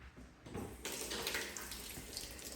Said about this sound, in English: I'm gonna fill it up to the line with hot water